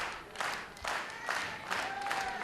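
Wrestling crowd at a three-way match cheers and applauds steadily, a broad wash of clapping and voices with swells roughly every second, fairly distant and sustained throughout.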